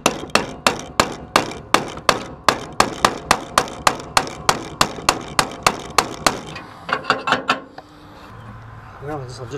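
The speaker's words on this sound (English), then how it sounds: "I'm gonna go up top and try to knock them loose." Rapid metallic hammer blows knock drilled-out spot welds loose on the radiator support of a GM A-body Cutlass, about twenty sharp, evenly spaced strikes that slow and stop before some quieter shuffling.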